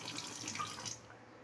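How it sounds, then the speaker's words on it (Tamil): Tap water rushes in a steady, close hiss to fill an indoor plant container, then cuts off after about a second. "வாஷ் பண்ணிவிட்டு ஃபுல்லாக தண்ணி நிரப்பிடுவேன்."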